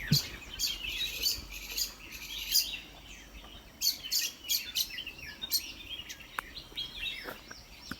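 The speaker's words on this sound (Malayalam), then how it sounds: "എന്തൊക്കെ കിളികളുടെ സൗണ്ട് കേൾക്കണം" Several birds chirp and tweet in quick bursts against a steady outdoor background, some calls nearer and brighter than others.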